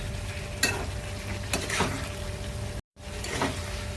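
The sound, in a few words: potatoes and prawns being sautéed in a pan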